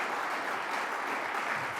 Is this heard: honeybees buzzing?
no